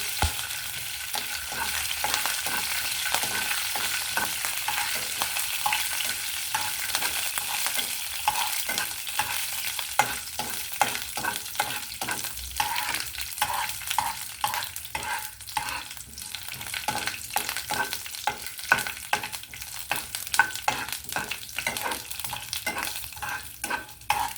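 Tempering spices fry and crackle in a pan for a tomato chutney made with bachalikura, a steady close sizzle with repeated stirring scrapes throughout and no talking.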